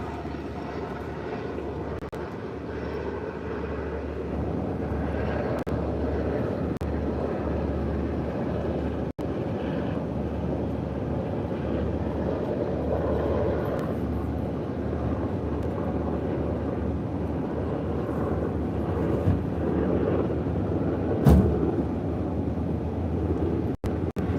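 An airplane passes overhead as a steady, broad engine roar that holds evenly throughout at moderate loudness, with faint wind buffeting and no speech.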